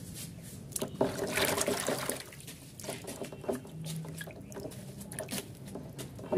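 Soil material for a water lotus plant being washed in water, with faint sloshing, trickling and splashing spread through the whole stretch, fairly quiet and close.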